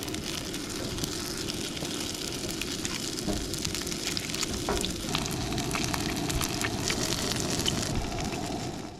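Plant-based Beyond burgers sizzle in a frying pan at a campsite, a soft continuous crackling hiss with occasional pops, steady and fairly faint with no talking.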